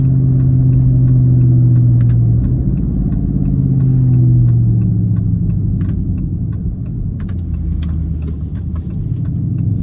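A car engine runs loudly and steadily as gears are changed with paddle shifters, its pitch dropping with each gear change, with a rising note between shifts.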